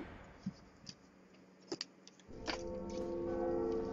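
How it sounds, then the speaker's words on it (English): The Bell of Awakening tolls in the Dark Souls video game, a few faint metallic clicks and rings at first, then a sustained resonant bell tone swelling and holding steady to the end. "The bell's ringing out."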